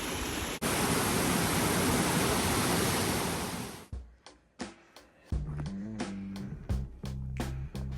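Roaring waterfall on the Routeburn Track in New Zealand, a loud, steady rush of falling water filling the first four seconds alone, then cutting away to quieter scattered knocks and clatter.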